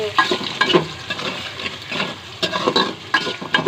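Onion and green chili frying in a hot pan, with a steady sizzle broken by repeated stirring and scraping strokes of a utensil against the metal, close and fairly quiet.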